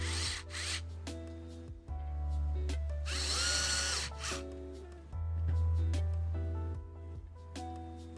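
Small screws driven into a Game Boy Advance shell with a powered driver, a whirring motor starting and stopping in several long bursts with pitch shifts, close by and without talk.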